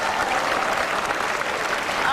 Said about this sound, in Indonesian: Tadi boleh tepuk tangan dong dikit-dikit katanya.